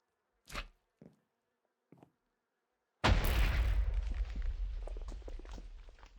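A few soft Minecraft footsteps or clicks, then a sudden loud bee cannon explosion in the video game that booms and slowly decays into crackling rumble.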